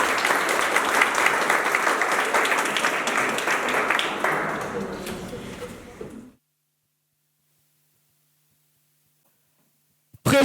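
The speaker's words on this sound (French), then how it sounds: "Applaudissements pour ces débatteurs" A French debate audience gives dense, loud applause for the debaters, holding steady then fading out around six seconds into silence.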